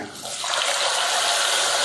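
Water pours steadily into a cooking pot holding rice, a broad continuous splashing rush that starts slightly softer and quickly builds to a full, even flow for a couple of seconds.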